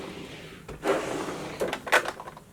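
Drawers of a makeup organizer sliding open and shut indoors, with a few soft rumbling and knocking bursts close by, no talking.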